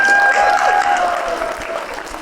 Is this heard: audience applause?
yes